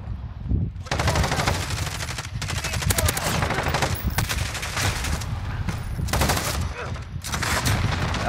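Rapid bursts from an M91 light machine gun in a shooter game fire in long, fast rattling strings, loud and close, broken by brief pauses between volleys.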